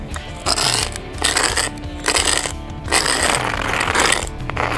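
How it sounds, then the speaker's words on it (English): A plywood tool scrapes excess sand out of a concrete expansion joint, making loud close gritty rasping strokes in repeated bursts with brief gaps between them. "I just simply scrape the excess sand away"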